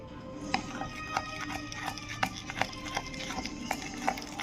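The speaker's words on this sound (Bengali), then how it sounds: "আমি এটা এখন ভালো করে মিশিয়ে নিব।" Orange cake batter with oil and powdered milk being mixed in a bowl, giving a steady run of light, evenly spaced taps and scrapes from the utensil, close up and moderately quiet with no talking.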